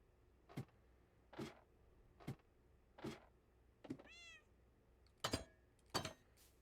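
A Minecraft cat meows in a hardcore Bedrock vanilla world, giving a series of short, quiet mews spaced about a second apart, with one drawn-out, wavering call in the middle, and no talking.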